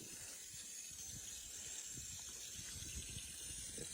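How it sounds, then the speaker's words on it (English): Water running from a garden hose into a 2015 Nissan Versa to test for a leak, a steady close hiss and gush that holds without a break, with no one talking. "we carefully turn this hose on just to fill this up. Water flows and flows and flows"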